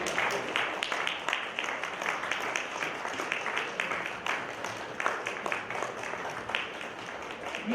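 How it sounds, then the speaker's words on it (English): Continuous clapping from a crowd at a Yoruba festival greets a dignitary heading to her table, an even, dense patter that holds steady throughout with scattered sharper claps. "Please keep on clapping for her till she reaches her table."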